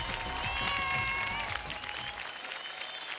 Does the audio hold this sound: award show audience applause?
yes